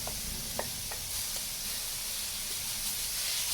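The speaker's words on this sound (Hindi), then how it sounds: "हल्का सा हम मूलियों को भून लेंगे ताकि ये नरम हो जाए।" Radish and green onion fry in oil in a pan, giving a steady, even sizzling hiss with a few soft clicks and no voices.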